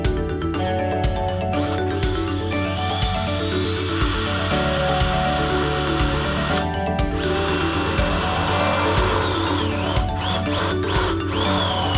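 A power drill bores holes in a Mazda MX-5 Miata turbo's firewall to mount a catch can, whining up to a high steady pitch in two long bursts, with clicks and mechanical rattling between runs.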